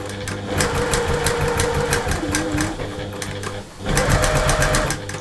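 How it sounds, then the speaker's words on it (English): A sewing machine runs a long teddy bear seam in a steady, close mechanical whir, pausing briefly near the end before picking up again at full speed. "So I've stitched from there down to there in one seam"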